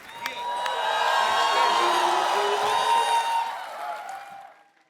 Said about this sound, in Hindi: जोरदार तालियां नरगिस के लिए